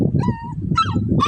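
Agitated dog worked up by people or dogs passing outside lets out a few close, high yipping barks and whimpers in quick succession.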